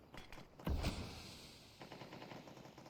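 Gunfire during a competitive Rainbow Six match, a few quick faint shots followed by a sharper, louder burst and a scattering of softer rapid shots afterward, all fairly quiet and distant-sounding.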